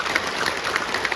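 A brief burst of audience applause at a Kyrgyz presentation on intellectual property and copyright, a steady patter of clapping lasting about a second.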